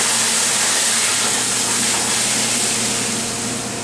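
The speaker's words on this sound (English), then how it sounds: "And then we're going to throw the shrimp in there." Shrimp sizzling loudly in a hot pan with butter, a steady dense hiss that fills the whole span without pause, slightly easing toward the end.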